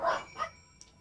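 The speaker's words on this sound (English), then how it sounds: "I have my dogs barking." A couple of short dog barks or yips in quick succession, fairly close but not loud, followed by a faint high squeak, heard in a quiet room.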